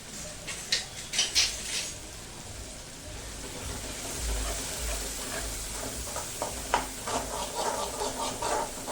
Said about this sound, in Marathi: आपण घालणार आहोत हेच मसाल्याचं वाटण आपण जे बाजूला काढले वाटण ते मस्त परतून घेऊया